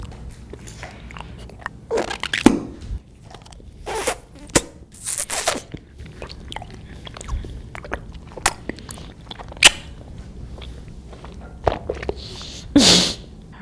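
Fruit jelly sticks are eaten close to the microphone in ASMR style, with irregular wet bites, slurps and chewing bursts spaced by quiet pauses.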